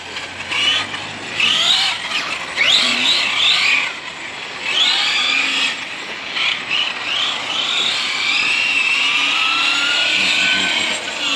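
Radio-controlled cars, a Konect X9S and an MCD XR5 12S, racing on an outdoor track at Baho, giving a continuous high-pitched electric whine that rises and falls as they pass, with no talk.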